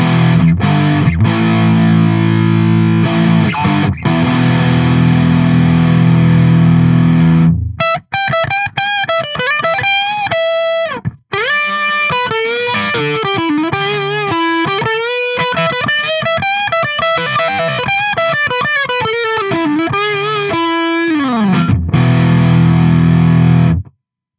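Heavily distorted IYV Les Paul electric guitar on the bridge pickup with a bright, biting tone: sustained chords first, then a quick run of picked riffs and bends, loud and up close.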